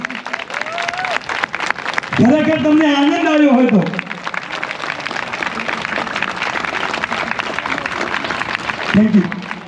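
A crowd at a temple flag-hoisting celebration claps in sustained, dense applause that rises and carries on while someone speaks loudly into a microphone.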